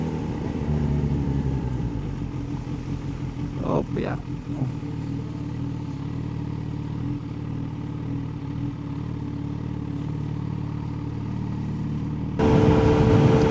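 A Kawasaki ZH2 motorcycle rides through flood water on a Philippine road, its steady engine rumble mixed with a constant wash of water. A brief voice comes in midway, and the noise swells louder near the end.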